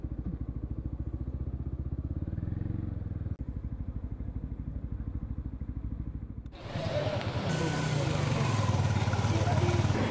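Motorcycle engines idle with a steady low throb outside a busy mamak restaurant before dawn, then a louder, brighter wash of traffic noise rises as bikes pass close by.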